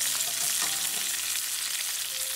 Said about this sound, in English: See all the oil coming up, so we're gonna cook this meat with this on oil.